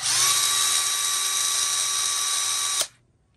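Ridgid R86001 cordless drill spins with a loud, high, steady whine for almost three seconds, then stops abruptly and leaves near silence.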